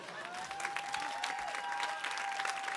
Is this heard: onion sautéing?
no